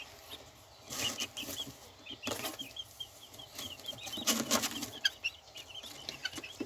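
Chicks and hens handled on a farm for leg ringing: soft clucks and little chirps come and go, broken by bursts of flapping wings and rustling as birds are picked up, close and fairly quiet, with no talk.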